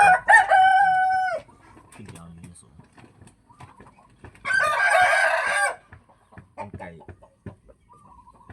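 A fighting rooster crows loudly up close, and a second burst of crowing and clucking follows after a pause. Quiet, scattered sounds fill the gaps between the calls.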